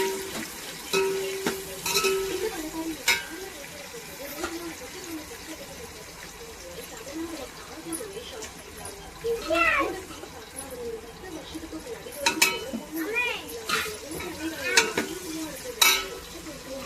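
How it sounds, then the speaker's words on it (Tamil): Onions and green chillies fry in a pot for homemade mutton biryani, a soft continuous sizzle with intermittent stirring scrapes and light clatter throughout. "பிரியாணிக்கு வெங்காயம் நல்லா கோல்டன் கலராக செகந்து வரணும்"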